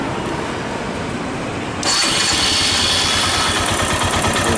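A motorcycle engine starts abruptly partway through and settles into a steady, loud idle, with the earlier part holding only low rumbling background.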